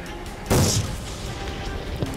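A single loud rifle shot is fired at a mule deer outdoors in Colorado, a sharp crack followed by a short decaying rumble over quiet background noise.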